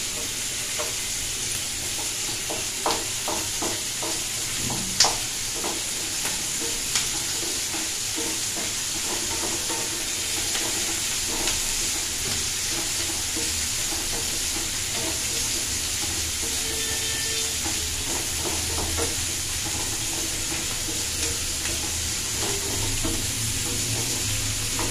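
Food fries in a pan with a steady, close sizzle and occasional stirring clicks and scrapes, continuing evenly without anyone speaking.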